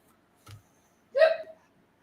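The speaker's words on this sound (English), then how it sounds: "Oh, I have the hiccups." One sharp, close hiccup, a short voiced gulp with a faint click just before it, in an otherwise quiet room.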